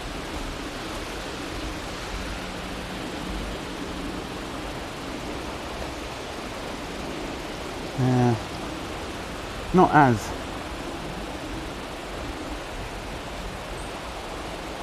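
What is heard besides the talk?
rushing river water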